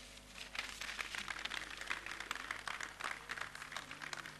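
Audience applause at a military war-college graduation ceremony, a steady dense patter of many hands clapping together, moderately distant and even throughout, with no voices over it.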